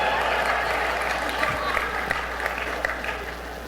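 Sustained audience applause fills a political rally hall, a dense, even wash of clapping with occasional louder claps standing out, and no voice rising above it.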